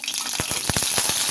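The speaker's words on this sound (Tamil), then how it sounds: "ஜீரகம் நல்லா பொரிஞ்சிருச்சு." Cumin seeds crackle and splutter in hot oil in a kadai over a gas flame, a steady close sizzle broken by a quick run of sharp pops.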